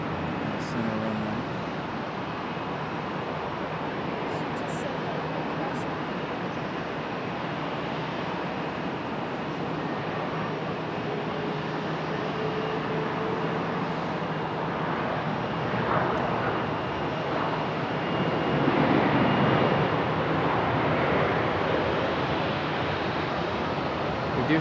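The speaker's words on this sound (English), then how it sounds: "Got one touching down right here in front of us." A jet airliner touches down on the center runway at Charlotte Douglas International Airport at night, heard as a steady, broad engine roar that swells toward the end under a speaking voice.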